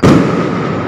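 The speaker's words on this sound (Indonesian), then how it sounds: "Masa nyawati gedung DPRD nggawe watu ambek mercon utawa kembang api." One loud firecracker bang goes off during a rowdy protest at a regional parliament building, a sharp blast followed by a short decaying rumble.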